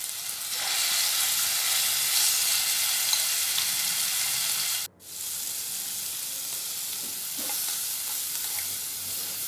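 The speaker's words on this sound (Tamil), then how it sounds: "இப்போ நாங்கள் வந்து மேரினேட் பண்ண சிக்கன் எடுத்து ரெண்டு பக்கமும் ஃப்ரை பண்ணிக்கிறோம்." Marinated chicken pieces frying in a pan for restaurant-style butter chicken, a steady dense sizzle filling the whole stretch with a brief dropout midway, close and loud with no talk.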